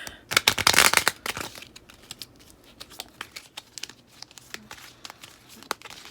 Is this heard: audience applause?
no